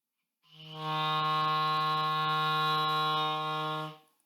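A single low F clarinet note is held steadily for about three and a half seconds, clear and close, with a soft start and a gentle fade.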